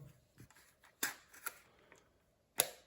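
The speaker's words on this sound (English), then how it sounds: "Close the battery compartment." Camera battery compartment on an Agfa Optima snapping shut, a few soft plastic clicks and taps in a quiet room, with one sharper click near the end.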